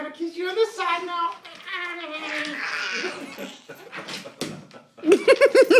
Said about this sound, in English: You're riling up the dogs too.